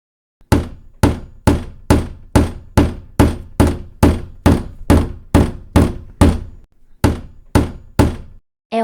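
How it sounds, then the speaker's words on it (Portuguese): A hammer strikes wood in a steady run of about fifteen loud, sharp knocks, each ringing briefly before the next, with one short pause near the end. "É o martelo."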